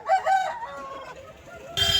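A rooster at a market for roosters crows loudly up close, followed by a shorter second call and a burst of flapping or commotion at the end.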